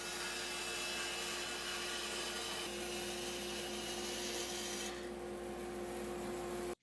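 A bandsaw cuts through a walnut board, giving a steady, continuous broadband whir and rasp that holds for about five seconds, then eases to a lighter running hum before cutting off abruptly.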